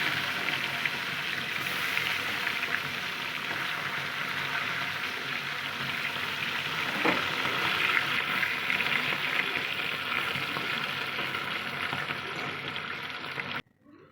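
Bata fish frying in hot oil in a pan while cooking maan kochu, a steady dense crackling sizzle that runs nearly unbroken at a fairly loud level, then stops abruptly near the end.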